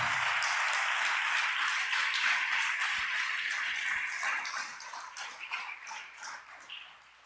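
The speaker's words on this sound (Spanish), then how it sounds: "¿Cuántos pueden dar un aplauso al Señor?" Church congregation applauding during a Spanish-language Easter sermon, a dense steady wash of many hands clapping that fades and thins toward the end.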